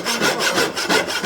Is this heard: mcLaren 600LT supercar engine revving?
no